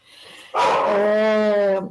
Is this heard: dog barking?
yes